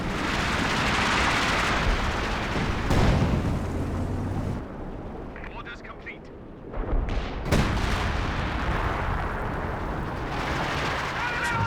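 A Katyusha rocket artillery barrage in Company of Heroes 2 brings loud, dense rumbling blasts and rocket whooshes that ease off briefly in the middle and then resume heavily, while a commentator talks over it.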